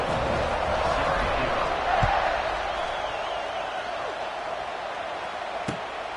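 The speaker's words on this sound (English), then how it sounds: "this crowd is buzzing after that last score" Steady roar of a college football stadium crowd buzzing after a touchdown, a dense wash of cheering that swells briefly and stays loud throughout.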